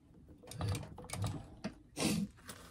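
A sewing machine stitches vinyl for a cruise fish extender gift, with short quiet bursts of mechanical chatter as it backstitches at the start and end of a straight seam.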